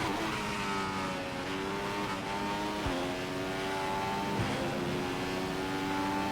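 A Formula 1 car engine screams through its gears in F1 2015 at the Austrian Grand Prix, loud and steady with rising pitch sweeps at each upshift.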